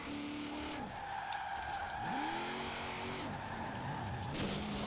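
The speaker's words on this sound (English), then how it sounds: "the engine noise just is so much better with the original engine in here" A Mako Shark car with its original engine in a Forza racing game, the engine pitch sweeping up and down through gear changes amid tire squeal and skidding, loud and continuous.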